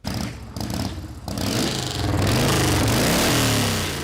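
A homemade motorcycle engine starts up and revs loudly nearby. The rough, clattering roar rises and swells in pitch and holds at high volume.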